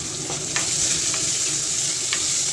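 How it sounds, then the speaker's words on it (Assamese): Chopped onion, ginger and garlic tipped into hot oil with crackling black mustard seeds, a steady close sizzle with a few sharp pops and stirring clinks. "তাতে মই অলপ পিঁয়াজ, আদা, নহৰু গোটেইখিনি দি দিছোঁ একেবাৰতে।"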